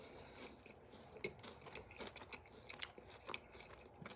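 Crunchy bites into a spicy crispy fried chicken sandwich, a run of faint, close crackling chews with a few sharper crunches, very quiet with no talk.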